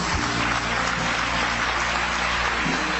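A church crowd claps continuously, a dense, even wash of applause at steady loudness for the whole stretch.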